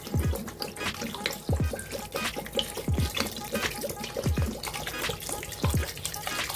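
Water is poured into a pot of nombu kanji, a Ramadan rice porridge, making a soft, fairly quiet liquid splashing and trickling sound that runs throughout, with a few lower thuds mixed in.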